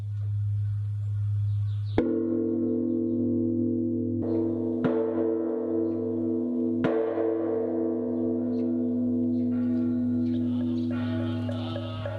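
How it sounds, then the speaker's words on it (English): Great temple bell at a Buddhist temple rung for the evening Yebul service, several deep resonant strikes spaced a few seconds apart, each blooming into a long humming tone that overlaps the previous one's sustain. "When the great bell is rung to tell it is time for the evening Yebul"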